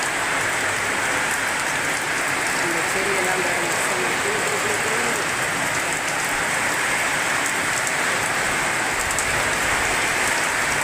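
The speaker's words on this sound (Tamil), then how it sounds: "இருந்தாலும் மழை சூப்பராக பெய்யுது" Heavy rain pours steadily as a dense, continuous hiss throughout, with a voice talking briefly over it near the middle.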